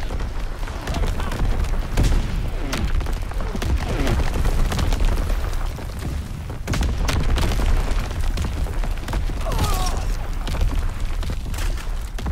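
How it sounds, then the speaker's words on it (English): Mortar rounds exploding in Call of Duty: WWII, a steady string of deep booms and crackling blasts rolling on without pause, dense and loud throughout. "Sending mortar rounds."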